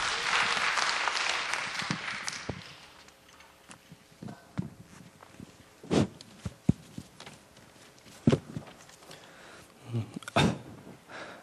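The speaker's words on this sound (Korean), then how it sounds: "나오실 때 우리 힘찬 박수로 환영했으면 좋겠습니다." A church youth group at a worship service applauds to welcome a young man coming up to give testimony, a burst of clapping in the first two seconds that fades, followed by sparse thumps and footsteps in a quiet hall.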